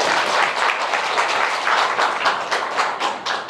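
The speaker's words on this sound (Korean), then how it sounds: "큰 박수로 맞이 부탁드립니다." Audience applause greeting a keynote professor at a Korean village book concert: a dense, steady wash of many hands clapping, loud and close, sustained through the whole stretch with no talk over it.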